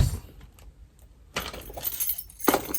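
Keys jangle and clink as they are dropped into a new bag, two short bursts of metallic rattling close by, with quiet handling noise between them and no talk.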